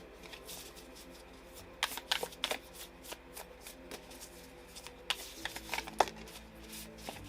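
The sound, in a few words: tarot cards being shuffled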